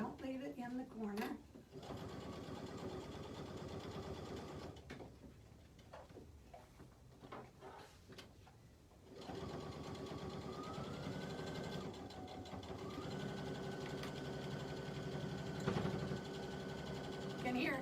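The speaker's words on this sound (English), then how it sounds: "You can hear it going bump, bump, bump as it's going through some of these tight spots" A sewing machine stitches through thick fabric for a bowl cozy with a quarter-inch seam. A steady close whirring drone runs with faint bumping as it hits tight spots. A person talks over it earlier, then the machine runs on alone.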